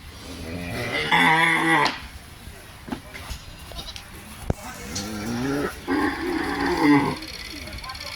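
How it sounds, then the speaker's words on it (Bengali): Cattle moo in long, deep calls at a Qurbani cattle market in Nitaiganj, Narayanganj, with one loud lowing early on and another near the end, among crowd chatter and people talking. "গরু ঢুকাইতেছে মাত্র"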